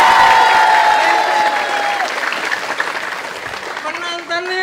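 A packed studio audience at TVRI Jogja applauds loudly and steadily, the clapping slowly thinning toward the end, with voices and music tones mixed in.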